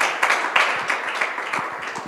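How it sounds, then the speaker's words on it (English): Audience clapping in a conference room at a Fedora talk, a dense, steady patter of many hands with sharp individual claps poking through, loud and close, no voices over it. "loud applause."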